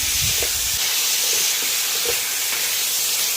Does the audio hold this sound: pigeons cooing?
no